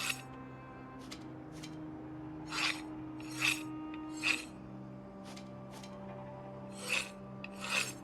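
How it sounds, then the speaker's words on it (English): Hunting knife sharpened on a whetstone in the video game Project Zomboid, a series of short, crisp rasping strokes spaced irregularly over a quiet steady background tone. "I'll also want to sharpen my hunting knife just so whenever I do need to cut something, that'll be easier."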